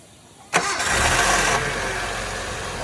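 Mitsubishi Lancer with a 4G91 engine cranks and catches with a sharp burst, then settles into a steady, fairly loud idle that runs to the end.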